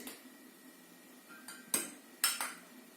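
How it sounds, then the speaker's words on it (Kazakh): A utensil stirs vinegar into oil in a dish, giving a few faint clinks and scrapes, with two sharper taps near the end against a quiet background. "Су майымызға араластырып жібереміз."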